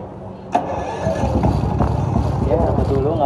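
An iPower 5 kVA silent inverter generator is started with its starter. A sharp crank catches and settles into a steady, close mid-pitched engine run, while a person talks over it.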